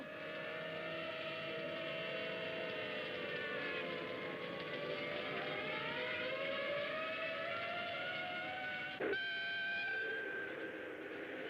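Train steam whistle in the Monster Show episode about Gammera, a long wavering multi-toned blast held for about nine seconds at moderate distance, ending with a brief knock and a shorter steadier tone.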